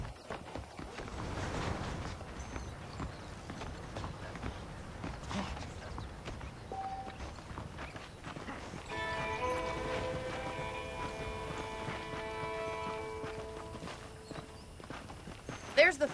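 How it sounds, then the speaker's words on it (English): Horse hooves clip-clop steadily at a walking pace in the Red Dead Redemption western video game, under ongoing speech, with a sustained musical tone entering midway. "The horses are saddled up over here."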